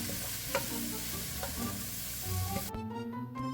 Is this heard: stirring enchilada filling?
yes